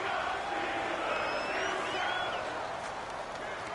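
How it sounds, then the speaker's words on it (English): A stadium crowd in an American football video game on PS4 builds its cheering ahead of a big third down. A loud, steady crowd roar runs the whole time with no clear breaks, and a few whistle-like tones rise above it. "The crowd getting into it as we come up on a big third down."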